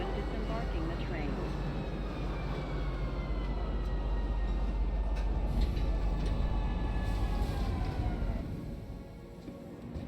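A metro train in the Star Citizen video game arrives at Metro Center station with a dense, loud rumble and rising mechanical whine that fades toward the end as it settles.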